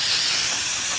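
An aerosol can of brake cleaner sprays in a single close, loud, steady burst of hissing that lasts about a second, then cuts off.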